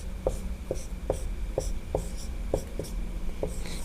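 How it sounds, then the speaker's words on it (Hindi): Chalk or marker writing a word on a board during a maths lesson: a steady series of short scratchy strokes and taps, about a dozen in a few seconds, close and clear over a low background hum. "इधर मैं लिख दूँ"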